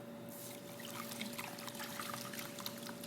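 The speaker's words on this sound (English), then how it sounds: "I'm so used to the practice of rinsing my rice before I use it that I still do" Cold water trickles and pours steadily over rice being rinsed by hand in a bowl, a continuous close splashing stream with no talk.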